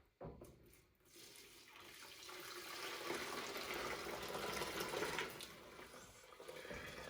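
Homemade vegetable broth pours in a steady, faint liquid stream into a pitcher, with a soft splash at the start and a gentle continuous gurgle.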